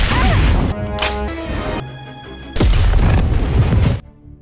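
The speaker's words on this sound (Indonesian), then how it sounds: "dan ketika Gary melihat keberadaan Julia, dengan murka ia pun langsung menembakinya secara membabi buta." Gunfire is sprayed wildly in a film action scene, producing a rapid series of heavy booming bangs and crashes. Two dense volleys are separated by a quieter stretch with music underneath.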